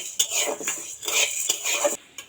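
Dry sabudana (sago pearls) stirred in a hot, dry pan, giving a steady run of close scraping and rattling clatter from the spoon against the metal, with repeated strokes and no talking.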